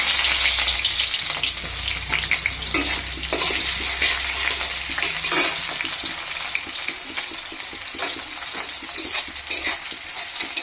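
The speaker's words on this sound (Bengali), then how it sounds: "পেঁয়াজটা ভেজে নিয়েছি" Hot oil sizzles steadily in a wok while onions are fried and stirred, with occasional scraping clinks of a utensil against the metal.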